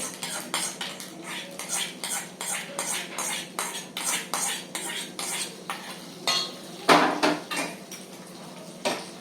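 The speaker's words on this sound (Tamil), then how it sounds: "இப்போ வந்து இதை நம்ம நல்லா மிக்ஸ் பண்ணிக்கிறோம்" A spoon stirs carrot, tomato and yogurt raita in a bowl, making rhythmic, repeated scraping and clinking strokes, close and fairly steady, with one heavier knock near the end.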